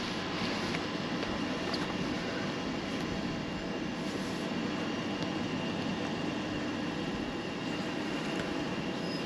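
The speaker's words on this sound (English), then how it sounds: "we got a Victoria train now leaving" A Southeastern train bound for Victoria pulls out of a station at Margate or Ramsgate, a steady low rumble and rolling wheel noise at moderate distance with a faint high whine, no voices.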